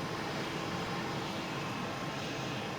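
Steady engine roar of a C-17 jet aircraft on a runway in Microsoft Flight Simulator 2020 at sunset, a broad continuous rumble holding level and loud throughout with no talk.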